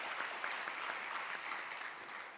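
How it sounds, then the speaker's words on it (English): Steady, close crowd clapping at a graduation hooding ceremony, an even roar of many hands with no break across the short stretch. "Round of applause for her, guys, as she's hooded."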